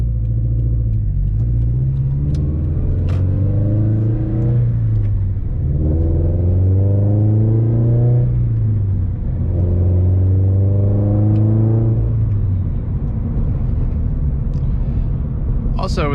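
A car exhaust fitted with an FT86SpeedFactory catted unequal-length header rumbles and revs in repeated rising pulls, each climbing then dropping back, loud and close throughout.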